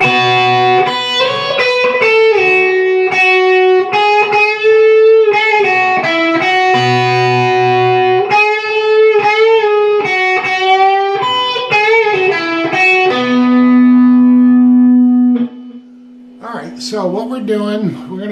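An electric guitar plays a melodic phrase of picked notes and bends from the bridge of a song, ending on a long sustained note, then a brief scratchy strum.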